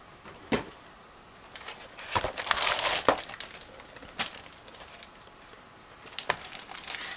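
A sealed plastic bag holding Miniart 1/35 Cabriolet B model kit frames is handled, giving scattered crinkles and sharp rustling bursts, loudest in the middle, with quiet gaps between them and no talking.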